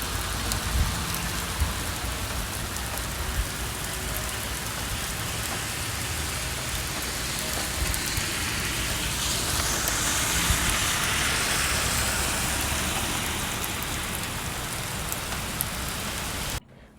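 Heavy summer rain pours down in Sweden, a dense, unbroken roar of drops close by that stays loud and even for the whole stretch before cutting off abruptly, with no talk.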